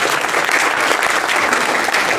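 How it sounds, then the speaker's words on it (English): Council members at a full council annual general meeting applaud together, a dense, steady clatter of clapping hands filling the room for a couple of seconds. "So huge round of applause for that."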